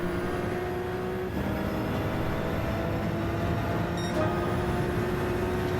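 A Ferrari racing car in a racing video game drones steadily at high revs down a straight, with a brief drop in pitch at each gear change and a rival engine alongside, no speech.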